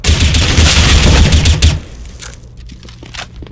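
In Counter-Strike: Global Offensive, a loud, dense burst of gunfire is shot through a wall for almost two seconds, then cuts to quieter scattered clicks and faint game noise.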